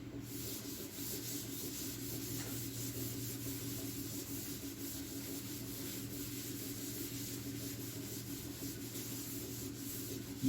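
Steady dry scrubbing of a duster rubbing writing off a classroom board, continuous and fairly close, with no talk.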